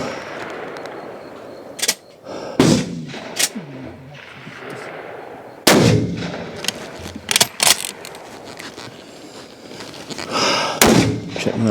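Swiss K31 Karabiner 31 rifle shots on a 300 m range during the Feldschiessen: several loud, sharp cracks with bolt and range clatter between them, amid crowd noise on a busy firing line.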